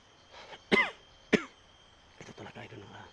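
Two sharp coughs about half a second apart, close and fairly loud, followed by some faint murmuring.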